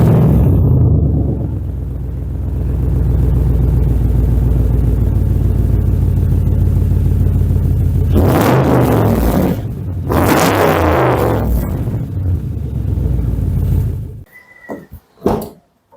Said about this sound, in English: this specific one too has an Akropovich exhaust, which sounds like this.